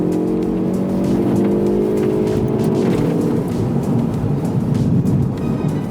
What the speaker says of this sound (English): if we now accelerate, you can feel the engine being fastest, gear shifts being fast